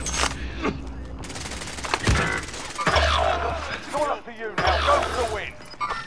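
Gunfire in a battle royale game comes in several sharp bursts, loud and close, with a low rumbling drone underneath and a voice talking over parts of it.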